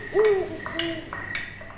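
A white owl gives a single short, wavering hoot over a low ambient drone with faint chiming tones, brief and fairly clear, with no voices.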